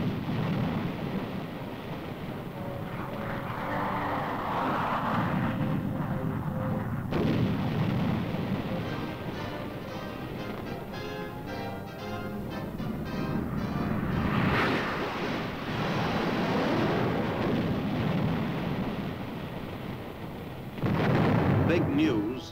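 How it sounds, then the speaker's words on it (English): Napalm bomb of jellied gasoline bursts during a military demonstration, a long, deep rumbling roar that swells and rolls for many seconds, loud and sustained with surging peaks. "This group is watching a version of the napalm bomb, jellied gasoline that cuts down everything in its path."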